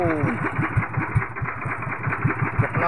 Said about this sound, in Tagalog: Para mamatay ang makina.